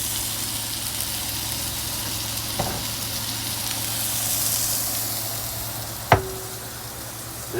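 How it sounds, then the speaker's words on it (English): A pot of braised oxtail stew simmers with a steady soft bubbling hiss, heard close up. A brief clink of metal sounds partway through. "And so we get that simmering down nicely."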